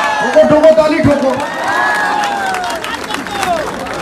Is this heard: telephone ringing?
no